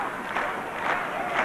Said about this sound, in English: The crowd giving a slow hand clap